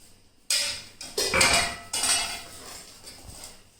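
Bhindi seed curry being served from a cooking pot into a serving bowl, with a few close metallic clinks and scrapes of a utensil against the pot and dish, no talking.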